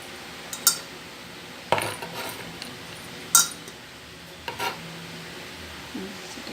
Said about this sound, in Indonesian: sudah ini diaduk teman-teman ya. Aduk dulu